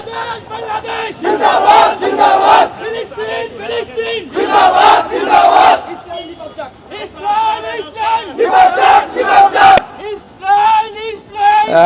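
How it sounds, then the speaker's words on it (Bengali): A street protest crowd in Bashundhara City by traders rallying over attacks on Gaza chants slogans in loud, rhythmic call-and-response bursts, voices surging together close by with short pauses between shouted phrases. "তারা বিভিন্ন স্লোগান দিচ্ছেন আমরা দেখতে পাচ্ছি"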